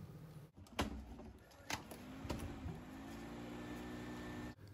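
An old Denso condenser fan motor from a 1999 Maruti Zen, wired straight to a car battery, spins up after a sharp click and settles into a steady, even whir with a faint rising whine, close and alone.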